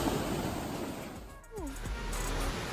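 Ocean surf rolling onto the beach at Manuel Antonio, Costa Rica, a steady close roar of waves with wind buffeting the microphone, joined briefly by a faint vocal or whistling sound midway.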